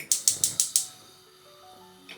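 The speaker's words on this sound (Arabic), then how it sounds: "ونشغل النار" A gas stove igniter on a kitchen hob, used while cooking Palestinian musakhan chicken with olive oil, clicks five times in quick, even succession, sharp and close, before fading to a quiet background hum.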